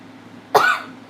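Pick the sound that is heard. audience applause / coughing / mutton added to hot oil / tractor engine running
coughing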